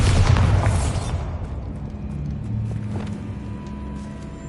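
A Bombarda spell blast goes off in a tomb in Hogwarts Legacy, a heavy boom at the start fading into a lingering low rumble with faint debris.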